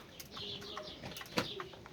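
Pigeons from a home loft give soft, faint cooing, broken by a few brief bursts of wingbeats as birds flap and take off nearby, with a sharper flurry midway.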